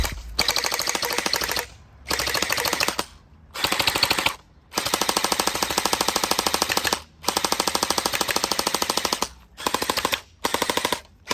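An Anstoy M4A1 gel blaster fires in rapid full-auto bursts, a loud, fast mechanical rattle repeated in about six long strings with brief pauses between them, with no talk.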